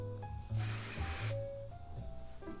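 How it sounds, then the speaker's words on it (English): Hairspray sprayed onto hair while it is pulled, one half-second burst of hissing spray amid quiet background with a few tonal hums. "The way I spray my hair is I just pull it like this and spray at the same time."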